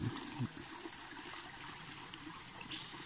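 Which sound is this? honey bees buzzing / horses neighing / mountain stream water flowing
mountain stream water flowing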